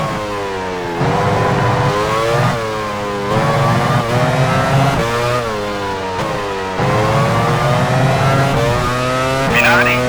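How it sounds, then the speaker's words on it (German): Simulated Formula 1 race car from the F1 Challenge 99-02 game at Spa-Francorchamps, engine whining loud and steady with harmonic pitch sweeps as it shifts and slows into the pit lane, a voice speaking briefly over it. "Hill fährt in die Boxengasse."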